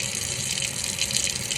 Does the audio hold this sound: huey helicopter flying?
no